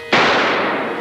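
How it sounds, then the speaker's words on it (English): A single loud, close gunshot in a radio drama set at a car customizing shop, a sharp crack followed by a long ringing decay, heard alone. "A gunshot."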